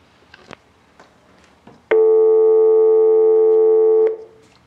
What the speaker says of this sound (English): Ooh, it has a dial tone.